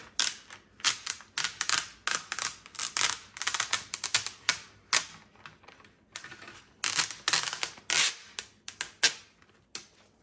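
Transfer tape is slowly peeled off adhered craft vinyl on a tray. It makes close, dense crackling and ticking bursts in an irregular rhythm, with short pauses between pulls.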